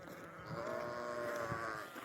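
Sheep on the Colorado Trail give a long, wavering bleat that carries across a quiet mountain setting, moderately close and alone without talk.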